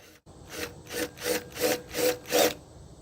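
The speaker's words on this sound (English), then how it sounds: "Got my hole saw ready to go." Six rhythmic rasping hole saw strokes grow steadily louder, each a bright gritty burst of saw teeth biting into wood, close by with no talking.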